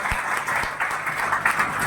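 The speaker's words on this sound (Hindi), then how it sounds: "एक बार इनके लिए जोरदार तालियां हो जाए।" Audience applause at a business networking seminar, a steady, fairly loud patter of many hands clapping throughout, with no talk over it.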